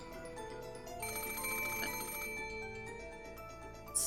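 A telephone in the video game Umineko When They Cry rings continuously with a bright, steady electronic trill that swells slightly partway through and holds at a fairly loud level.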